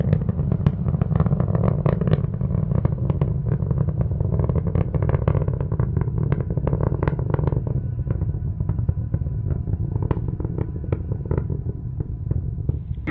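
SpainSat NG-2 rocket climbing through its ascent after launch from Cape Canaveral, Florida: a steady, heavy crackling roar, loud and continuous throughout with rough rumbling texture.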